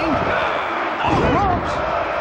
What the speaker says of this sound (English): This crowd is electric. Everyone's up.